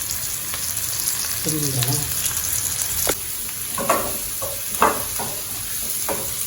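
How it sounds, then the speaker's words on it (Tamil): Pieces of ridge gourd sautéing with onion in a pan, a steady sizzle broken by scraping stirs of a spoon, with a brief spoken question over it. "அந்த பீர்க்கங்காய் வதங்கும்."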